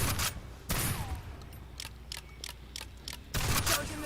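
A deployed sentry turret in a video game fires short, sharp bursts: a loud shot near the start, then a quick run of fainter pops, and another heavy burst near the end.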